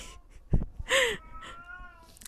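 House cats meowing indoors, a short thump followed by one loud, drawn-out meow and a fainter trailing cry, close by with no talk.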